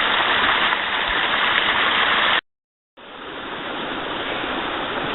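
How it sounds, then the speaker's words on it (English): Steady rushing water from a stream and waterfall in Parfrey's Glen, a mossy glen, fills the scene as a broad, continuous roar, loud and close, broken by a brief silent gap midway. "I hear there's a waterfall up ahead."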